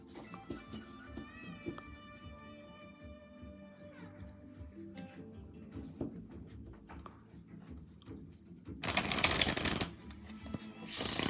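A deck of tarot cards is shuffled by hand in several bursts of quick, papery riffling. A louder, denser flurry comes near the end, with a soft voice and quiet background sounds between the bursts.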